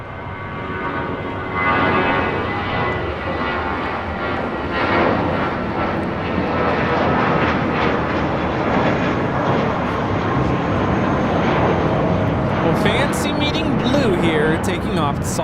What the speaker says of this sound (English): Taking off to Salt Lake City on this JetBlue A320 flight 1732.